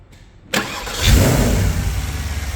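A 2015 Porsche Panamera GTS with a 4.8 liter V8 cranks briefly, then fires with a sharp burst and settles into a loud, deep, rumbling idle, heard close up.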